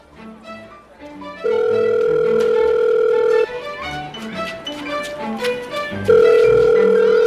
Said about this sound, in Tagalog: O ayan, nagri-ring na.